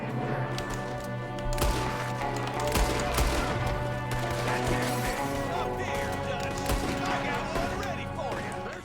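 Rapid bursts of gunfire in the Western video game Red Dead Redemption 2, crackling volleys over a steady music and ambience bed, continuous and fairly loud, with voices talking over the shooting.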